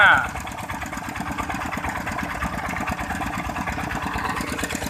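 Several engine-driven water pumps run steadily side by side, draining a flooded rice field, a continuous mid-pitched mechanical drone with rapid pulsing that holds level throughout, with a brief louder burst at the start.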